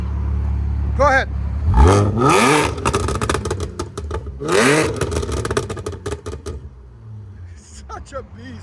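A supercharged 3.0L V6 Audi SQ5 with downpipes and an X-pipe revs loudly and repeatedly, its exhaust note climbing and falling in sharp bursts, while people talk nearby.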